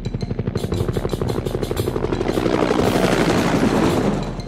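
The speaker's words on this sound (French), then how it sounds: "Regardez l'hélicoptère qui s'envole." A cartoon helicopter in a children's animated train song lifts off, its rapid rhythmic rotor chop pulsing loud and close, then blurring into a denser whirring roar as it rises.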